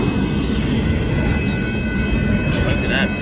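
A northbound Union Pacific intermodal freight train passes a road crossing in Austin, Texas, a steady loud rumble of wheels and wagons filling the clip without a break.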